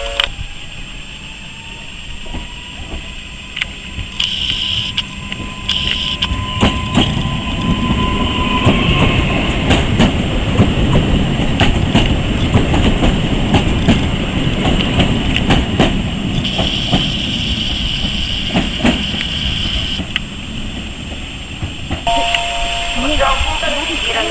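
Trains at Łowicz Główny railway station: a steady rumble of passing rail cars with clattering wheels, scattered squeals and chime tones, over a long stretch with voices and platform announcements audible.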